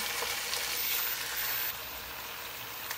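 Chopped onions frying in cooking oil in a pan, a dense bright crackling sizzle that is strongest at first, then eases to a softer steady hiss, with no voices.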